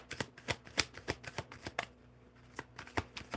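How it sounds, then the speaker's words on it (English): Tarot cards are shuffled in a quick run of crisp riffling snaps and soft slaps, close and fairly quiet, with a brief lull partway through before the rhythm resumes. "I'm going to give it another shuffle"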